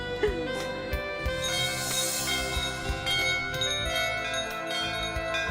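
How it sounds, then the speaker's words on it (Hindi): A temple bell rings with sustained, shimmering metallic tones that overlap and decay, fairly loud and close, with no voices. "मंदिर की घंटी"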